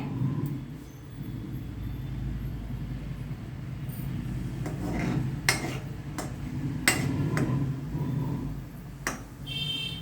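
Tempering spices splutter in hot oil for a bitter gourd tamarind curry: scattered sharp pops and crackles over a low steady hum, close by and with no voices.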